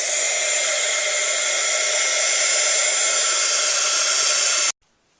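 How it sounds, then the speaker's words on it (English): An embossing heat gun blows a steady, loud, even roar for several seconds while it melts embossing powder on the edge of a handmade fall-leaves card, then cuts off abruptly. "I'll need to use my embossing heat gun here for a couple seconds to get it melted"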